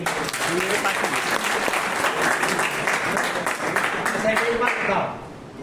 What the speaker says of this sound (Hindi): शाबाश, ताली बजा